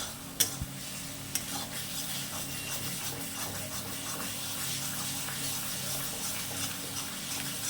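Garam masala being stirred and fried in a karai with cooked banana flower and prawns, a steady close sizzle with soft scraping strokes and a couple of sharp knocks near the start.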